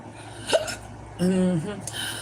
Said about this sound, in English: I just started getting the hiccups out of the blue.